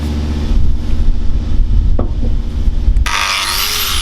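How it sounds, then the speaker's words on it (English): A worn flat sanding disc on a grinder scours rust off a forklift in a yard, a loud, continuous abrasive roar that turns brighter and harsher partway through. "Just a old sanding disc, getting a particularly good one, but it's enough just to take that rust off."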